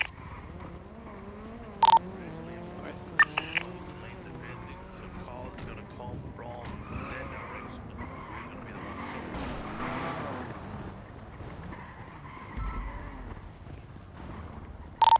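A car in a video game driving past, its engine whine rising and falling with tire squeals, under steady background game noise and someone talking.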